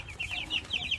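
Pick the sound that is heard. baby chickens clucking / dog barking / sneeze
baby chickens clucking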